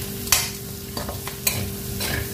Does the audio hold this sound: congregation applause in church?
no